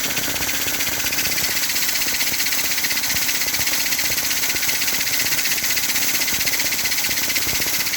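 Small electric motor on a buck-boost powered smoke machine setup running steadily and loudly throughout, a constant whirring hum with a high-pitched whine, with no talk.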